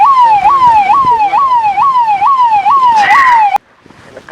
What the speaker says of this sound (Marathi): पोलीस गाडी पा.